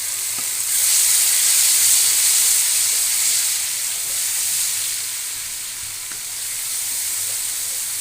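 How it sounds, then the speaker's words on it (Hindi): Garlic frying with golden-browned onions in a pan over a medium flame for phaliyan keema, a steady, close, fairly loud sizzle and hiss that swells slightly after the first second and holds with no talking. "अब हम इसमें लहसुन डालेंगे,"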